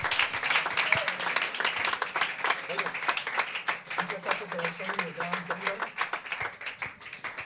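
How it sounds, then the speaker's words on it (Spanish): A church congregation claps along during a Spanish-language sermon service, rapid steady claps ringing out continuously at moderate loudness, with voices and shouts mixed in throughout. "Alguien aplauda el nombre de Jesús en esta mañana"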